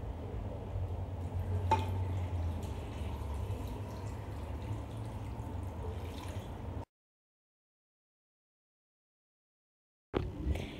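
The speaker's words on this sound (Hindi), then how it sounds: "2 कप्स ऑफ वाटर।" Two cups of water poured into a pressure cooker over mutton, onion and garlic, a steady close splashing pour for several seconds, then silence and a short burst of sound at the end.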